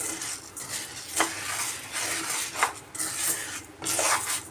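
Black gram (urad dal) being dry-roasted and stirred in a pan over a low flame, a steady scraping rustle with a few sharper utensil clinks against the metal, fairly close and without talk.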